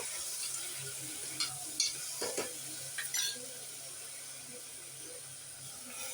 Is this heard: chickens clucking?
no